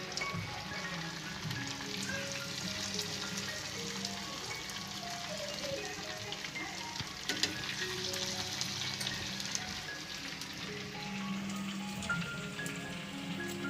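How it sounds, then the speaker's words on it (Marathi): Rice bhaji deep-frying in hot oil gives a steady, dense crackling sizzle that runs unbroken throughout at a moderate, even level. "तेल पण एकदम मस्त गरम झालेलं आहे आपली भजी पण एकदम फटाफट निघत आहेत"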